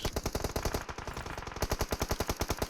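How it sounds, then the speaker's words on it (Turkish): Rapid automatic gunfire in PUBG Mobile, a steady burst of closely spaced shots rattling out with a brief pause near the middle, loud and close with no talking over it. "Dikkat et bak ateş ediyorlar."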